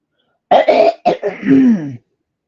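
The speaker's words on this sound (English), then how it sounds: "feel like I'm clearing my throat" A single person clears their throat up close, two quick rough bursts followed by a longer gravelly rasp.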